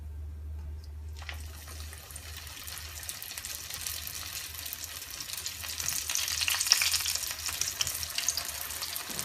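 Chicken seekh kebab rolls fry in a pan with a crackling sizzle that starts quiet after a low hum and grows louder and busier toward the end.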